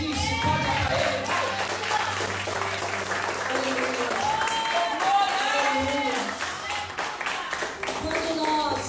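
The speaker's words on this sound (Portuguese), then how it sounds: "Você pode aplaudir, se pode aplaudir." A church congregation applauds, a sustained wash of many hands clapping that continues steadily for several seconds while a speaker talks over it.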